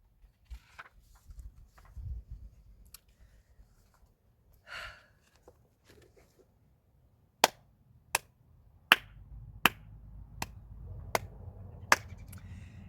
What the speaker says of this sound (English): it called for a slow golf clap